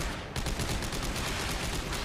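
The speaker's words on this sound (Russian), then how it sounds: "прям в задницу там выстрелили разрядом мне" Gunfire in the sci-fi shooter Dead Space 3, a dense burst of loud shots and energy discharges filling the whole clip after a brief quieter start, with no talk over it.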